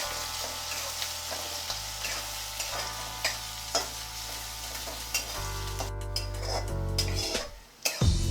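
Chopped onion, curry leaves and green chili frying in a pan for bread upma, a steady close sizzle with spatula scrapes and stirring clinks against the pan, growing louder and denser near the end.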